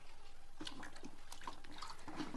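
Water poured from a pot onto plants on a village farm, a steady splashing wash of liquid running continuously and fairly quiet throughout.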